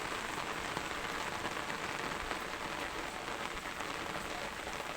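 Heavy rain falls steadily in a broadband hiss and patter that stays even and constant throughout, with no voices.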